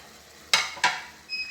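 Green chillies dropped into a hot pan for a home-style Indian pumpkin dish, giving two quick bursts of sizzling about a third of a second apart. Both are close and fairly loud, and a faint sizzle follows after them.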